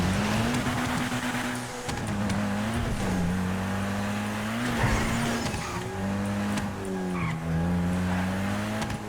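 A video game car drives along with a steady engine drone and squealing tyres, its pitch dipping and recovering as it repeatedly bumps and crashes into things.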